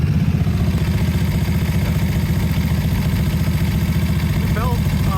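A neglected 1998 Yazoo YTKC22 three-wheel riding mower engine with heavy blow-by runs close by, a steady low chugging idle with a regular pulsing beat and some clatter.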